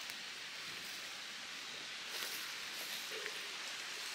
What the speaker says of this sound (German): es fängt an zu regnen. Es kommen wenige Tropfen durch, aber es regnet auf jeden Fall draus.